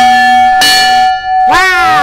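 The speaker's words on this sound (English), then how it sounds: "here I am with a fireman's bell" A fireman's bell at a firefighting museum rings with loud, close, ringing metallic strikes, each tone sustaining and overlapping the next with no talk over it.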